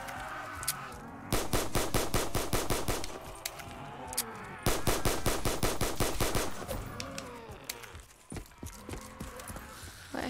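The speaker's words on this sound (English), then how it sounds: "This gun has no recoil whatsoever." Automatic gunfire in the video game Call of Duty: Black Ops 3 zombies mode: two long rapid bursts of loud, evenly spaced shots, then scattered single shots under game sounds.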